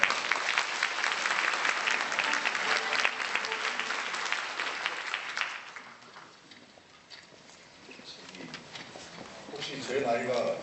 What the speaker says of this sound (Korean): 이기영 회장님을 큰 박수로 환영해 주시기 바랍니다.